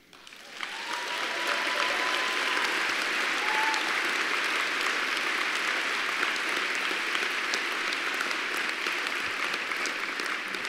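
A banquet audience bursts into sustained, dense applause that holds steady and loud for about ten seconds, a broad wash of many hands clapping with no talk over it.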